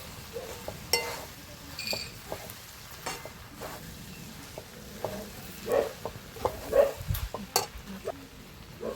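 A spoon stirs okra masala with onion, tomato and fresh lemon juice in a pan, producing soft frying sizzle, repeated scraping strokes and occasional metallic clinks against the pan, moderately quiet and without speech.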